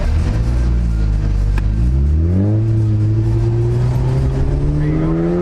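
Engine note of a stock Ford Focus ST on an autocross course, loud and close from inside the car, dropping briefly during a shift and then climbing steadily in pitch as the car accelerates hard.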